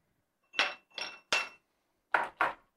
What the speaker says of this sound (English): I'm going to put a couple of ice cubes in there.